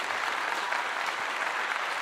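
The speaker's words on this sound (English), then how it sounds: "And let's give it a clap." Steady, dense applause from a crowd, even and continuous throughout with no distinct voices.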